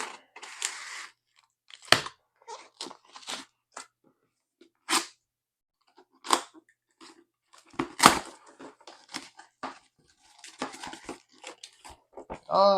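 A comic book mail package is cut open by hand, with scattered short crinkly slicing and rustling noises at close range, interrupted by quiet pauses and some soft talking.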